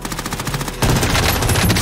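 Rapid automatic gunfire in a shooting video game, loud and continuous, with sharp repeated shots intensifying partway through.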